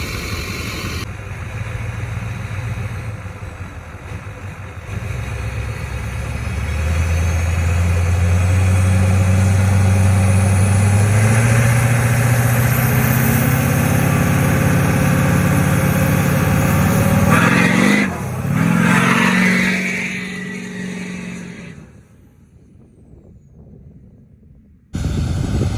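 An LBZ Duramax diesel engine in a 600 hp go-kart, loud and close, revving up and launching hard with a long rising roar, a brief dip, more revving, then a drop to near idle before a final burst.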